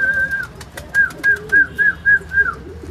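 Pigeons coo nearby, a steady run of about half a dozen soft, rounded, repeated calls in an even rhythm over a faint background hum.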